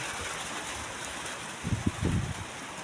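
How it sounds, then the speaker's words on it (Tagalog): Strong typhoon wind and heavy rain during Typhoon Enteng, a steady broadband roar with louder gusting surges building toward the end, no voices. "Makita nyo naman kung ano yung lakas ng hangin at ulan dito sa amin"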